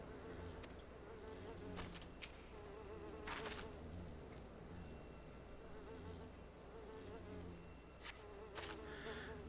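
Insects buzzing in Final Fantasy XIV: a steady, droning hum of bees that runs without a break, with a few brief brighter accents and no talk.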